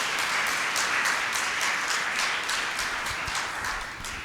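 A church congregation at an Easter Sunday service breaks into sustained applause, a dense even wash of many hands that slowly fades toward the end.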